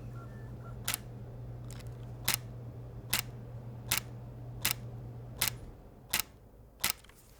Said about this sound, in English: It's a great shutter speed sound.